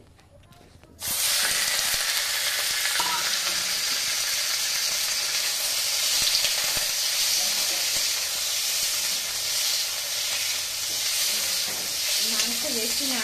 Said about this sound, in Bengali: এই স্যুপের জন্য মাংসটা নাড়াচাড়া করে নিচ্ছি